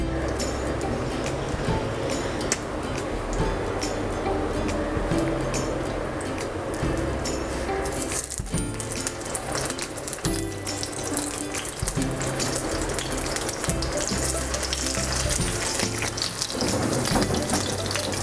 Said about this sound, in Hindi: जब कुकिंग ऑयल गर्म हो जाएगा तो हम इसमें इस तरह से 1 बाय 1 कबाब डालेंगे।